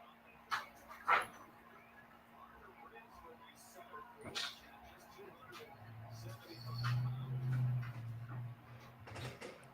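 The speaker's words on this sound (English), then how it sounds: "I get my dog out real quick." Pet dog in a home, brief yips and whimpers scattered among a door sliding and low handling noise, fairly faint and close, with a person's voice nearby.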